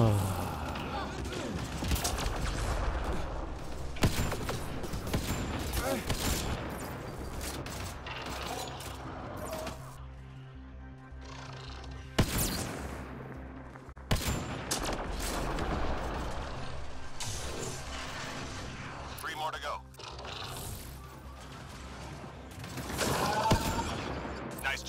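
Gunfire in Apex Legends arrives in loud, punchy bursts and booming impacts with mechanical clatter, separated by quieter stretches, while a voice talks over part of the action.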